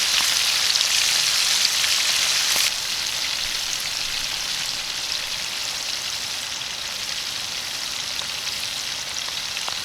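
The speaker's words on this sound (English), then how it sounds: "I'm actually cooking these in lard" Finger steaks deep-fry in lard with a dense, crackling sizzle that holds steady and close throughout, briefly louder at the start before settling into an even hiss.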